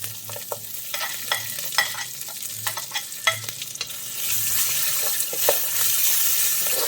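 Chopped ginger and garlic sauté in oil for prawn pickle, with repeated close scrapes and stirring clicks over a soft sizzle that swells into a steady, louder frying hiss toward the end.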